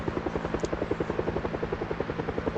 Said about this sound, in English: When I was in the back of that, I could already hear the helicopter.